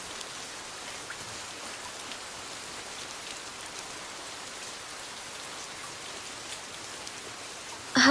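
Steady rainfall, an even hiss of drops hitting surfaces, continuous and moderately soft throughout with no voices.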